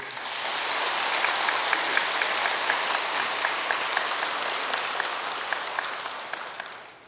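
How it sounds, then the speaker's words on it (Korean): Steady applause from a temple audience honoring the Buddha at a Buddhist ritual service, dense clapping sustained evenly for about seven seconds before tapering off at the end. "부처님한테 박수 한번 쳐주세요"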